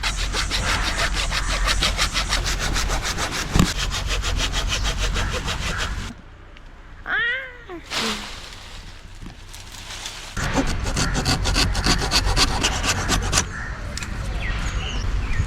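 A hand saw cuts through a large mango tree branch being prepared for bark grafting, rasping in rapid, steady back-and-forth strokes that pause midway for a few seconds before resuming; a voice speaks briefly during the pause.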